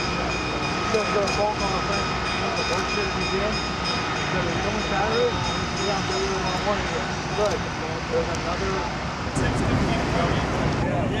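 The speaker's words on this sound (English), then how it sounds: "6133 moves the caboose around to the end of the freight consist while the Alco diesel moves up front" A diesel locomotive moving railroad freight cars and a caboose rumbles steadily past, with continuous rolling rail noise and faint clattering of cars, broad and constant throughout.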